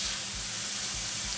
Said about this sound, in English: we're only going to give the onions a quick saute